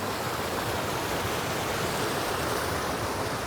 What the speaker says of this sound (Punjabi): ਤੁਸੀਂ ਦੇਖੋ ਝਰਨਿਆਂ ਦਾ ਪਾਣੀ ਪਹਾੜਾਂ ਉੱਪਰੋਂ ਕਿੱਦਾਂ ਆ ਰਿਹਾ ਆ